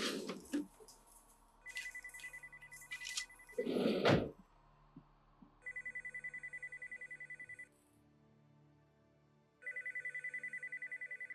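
An old-style telephone bell rings in a scene from the TV show The X-Files, coming in two long repeated bursts after some louder thuds and rustling, with no voices.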